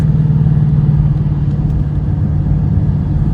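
A Ford Mustang engine idles loud and close with a heavy low rumble, its speed wavering unevenly rather than holding steady, with no talk over it.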